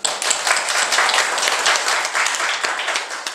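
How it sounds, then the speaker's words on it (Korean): An audience at a church Easter sermon breaks into dense, lively applause, a continuous burst of many hands clapping close by for a few seconds. "박수 해주세요."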